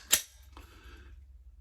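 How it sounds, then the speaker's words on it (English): A single sharp click of a pistol trigger breaking during dry fire practice, close and crisp, followed by a softer mechanical click and quiet room tone. "press my trigger"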